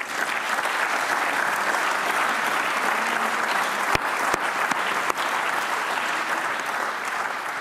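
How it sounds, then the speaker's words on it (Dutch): Members of the Flemish parliament applaud at a sitting, a loud, even burst of clapping that fills the room, with a few sharper single claps standing out partway through. "Misschien kan een applaus dit bevestigen."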